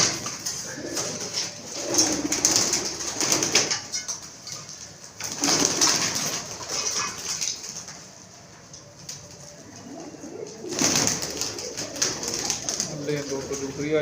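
Pigeons coo softly in a few low, bubbling bursts on a rooftop, with other birds calling and background chatter around them.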